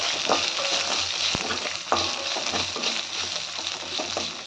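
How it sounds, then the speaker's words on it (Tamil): Shallots, garlic, green chillies and dried red chillies sautéing in a pan for beetroot chutney, with a continuous sizzle broken by repeated stirring scrapes close by. "ஒரு 10 சின்ன வெங்காயம், 4 பல் பூண்டு, 2 பச்சை மிளகாய், 4 காஞ்ச மிளகாய் போட்டு நல்லா 2 நிமிஷம் வதக்கிடலாம்"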